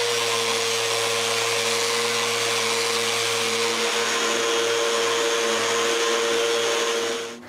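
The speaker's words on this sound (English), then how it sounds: "I can go on by sanding the back of the doors" A power sander runs steadily against the back of solid pine doors, making a loud, constant whirring hum with a faint tonal whine that holds for several seconds before cutting off abruptly at the end.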